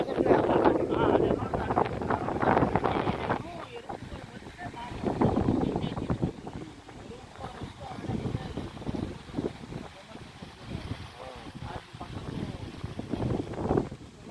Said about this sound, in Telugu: గాలి బాగా వస్తాను వాన వచ్చేట్టే ఉంది